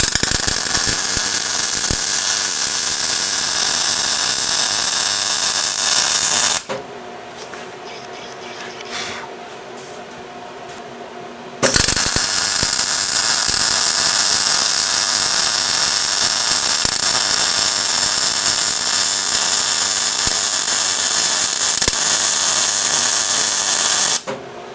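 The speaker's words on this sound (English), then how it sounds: "So I've just ground round all the other edges to make that sort of appear as a solid piece." Angle grinder running hard along the edges of two welded steel pieces on a bus project, a loud steady grinding roar that breaks off for about five seconds of quiet workshop noise before resuming to the end.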